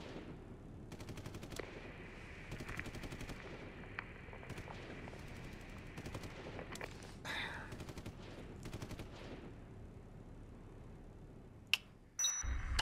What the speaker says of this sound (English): You hear that, Frank, right? That gunfire?